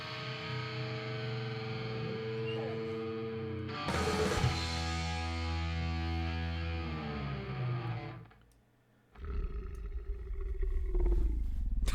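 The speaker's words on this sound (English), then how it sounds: "The monster noises, Jesse." Monster roars from a short film, loud distorted growling bellows layered with effects, each sustained for several seconds. A brief near-silent gap comes before a final rumbling, gritty roar.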